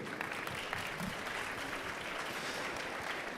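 An audience at a corporate HR conference applauds three speakers, producing continuous, even clapping from a sizable crowd, moderately close, with no voices over it.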